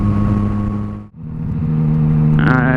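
Yamaha MT-09 motorcycle exhaust while riding: a steady, loud engine drone with wind rush, briefly dipping near the middle, then rising into a higher, sharper rev toward the end.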